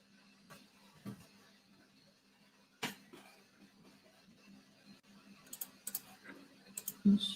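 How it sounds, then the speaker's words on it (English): Keys on a computer keyboard tapped in short, scattered bursts while Python code is entered, fairly quiet with a low steady hum underneath and a few louder clicks toward the end. "So now I'll type."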